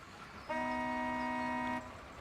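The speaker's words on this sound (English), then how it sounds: "Pretty good horn" A truck horn in the Construction Simulator video game sounds one steady, clear toot lasting just over a second, close and fairly loud over quiet background.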